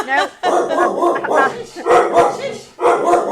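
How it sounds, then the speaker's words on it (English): A dog barks repeatedly during a radio show, with a series of loud, close barks and yips in quick bursts and short gaps between them. "My dog's decided to have a moment on the radio."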